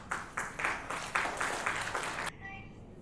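Audience applause welcoming a guest onto a stage at a business client event, a short burst of group clapping with rhythmic swells that stops abruptly after about two seconds.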